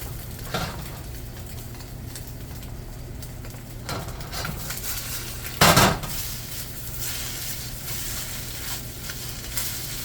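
A metal utensil scrapes egg off a wok being seasoned, over a continuous frying sizzle. Quiet clinks come early and one loud, harsh scrape follows midway.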